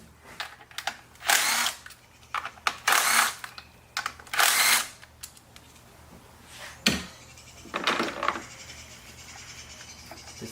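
Close-up bursts of a handheld power tool spinning out a 10mm bolt securing an engine coil pack, several short whirring runs separated by pauses and faint clicks.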